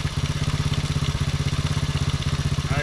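A Honda CT70 pit bike engine idles close by, loud and steady, with a fast regular putter of firing pulses throughout and no talk.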